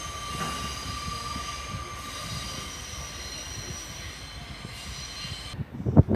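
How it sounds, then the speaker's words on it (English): Great Western Railway passenger train arriving at Exeter St Davids station, a steady rumble of wheels on rail with a high squeal of wheels, ending in louder clanks as it draws in close. "coming in now is the 1636 Great Western Railway service to Exeter Central"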